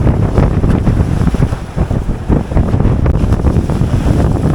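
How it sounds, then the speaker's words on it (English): Strong wind buffets the microphone on a boat on choppy sea off Cortez, Mexico during bonefish fishing, with a steady loud roar and rushing, slapping waves throughout and no talk. "It is really windy and really choppy out here."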